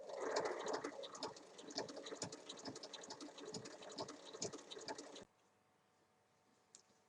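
A domestic sewing machine stitching tote bag fabric, a fast close rhythmic whirring patter that runs steadily for about five seconds, then cuts off abruptly into near silence with one faint click.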